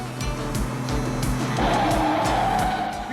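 A car in a cartoon skids under hard braking, with a rising tire squeal over a rhythmic engine and rattling thumps, loud and close throughout.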